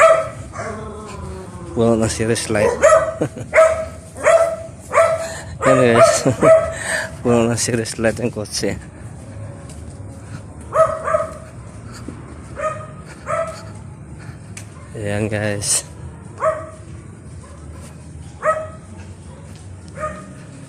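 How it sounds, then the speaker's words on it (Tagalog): A dog barks repeatedly in the background while someone talks over it, with a buzzing insect-like drone throughout. "Aso lang yung maingay."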